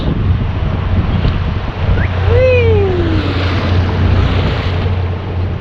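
Water rushes steadily past a sailboat hull under sail with no engine, a low constant hum, wind in the background and a brief rising whistle-like tone midway, at sea off the UK coast.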